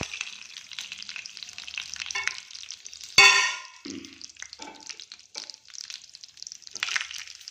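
Mustard seeds, chana dal, urad dal, cumin, fenugreek, curry leaves and a dry red chilli crackle in hot oil for a tempering, a steady close sizzle with a sharp loud burst of spattering midway.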